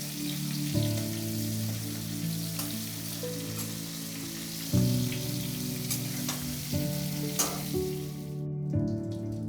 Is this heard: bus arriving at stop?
no